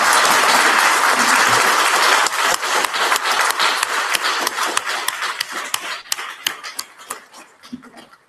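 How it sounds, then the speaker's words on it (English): Applause from a trans advocacy day audience, a dense roar of clapping that starts loud and thins out into scattered, distinct claps as it fades. "Can we all give ourselves a round of applause,"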